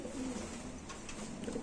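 Pigeons kept in a cage coo in low, throaty burbling calls, close by and moderately quiet, with a faint brighter chirp near the end and steady background noise throughout.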